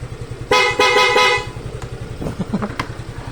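A Yamaha Fazzio scooter idles with a rapid engine putter while its PIAA aftermarket horn blasts three loud, bright, piercing honks close by, then smaller chirps and clicks follow over the running engine.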